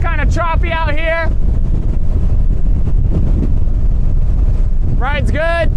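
A 2013 Bayliner 195 with a Mercruiser 4.3 engine planes across choppy water, a steady low engine roar mixed with wind buffeting, while voices speak briefly at the start and end.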